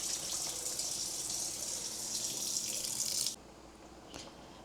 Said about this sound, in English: now I'm adding another 2 cups of water